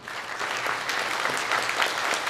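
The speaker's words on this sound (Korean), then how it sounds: "우리 박수로 환영하도록 하겠습니다." A church congregation applauds at a Sunday worship service to welcome newcomers, a dense, steady burst of many hands clapping across the room, fairly close, with little else beneath it.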